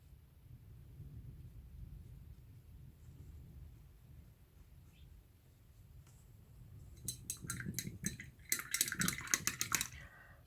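Paint being mixed in a glass while making colours: a low, quiet rumble for several seconds, then a burst of quick, close, bright clinks against the glass, no voices.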